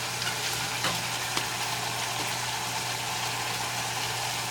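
Butter sizzling in a pan with green beans, a steady close hiss and crackle with a few soft stirring clicks, faint and continuous with no talking.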